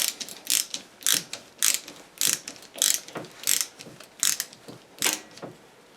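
A ratcheting screwdriver swivelled back and forth clicks in quick crisp bursts, about a dozen evenly spaced ratchet runs, close and clear with no talk.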